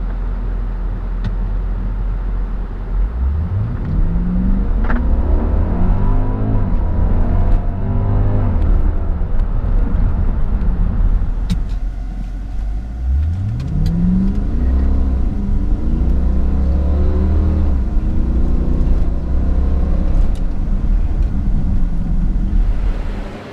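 A 2008 Mercedes-Benz S63 AMG black luxury sedan with a 6.2L V8 accelerates hard twice, each pull a deep, rising engine roar through the gears, with steady loud drive noise between and no talking.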